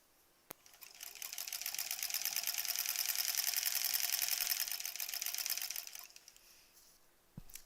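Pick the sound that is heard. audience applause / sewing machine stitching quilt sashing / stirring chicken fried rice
sewing machine stitching quilt sashing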